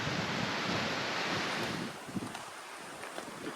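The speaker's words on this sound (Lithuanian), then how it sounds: "Vėjas po truputį stiprėja lipant į viršų." Strong, steady wind roars across an open slope while climbing a mountain in Sicily, loud and continuous before easing a little toward the end, with scattered buffeting gusts.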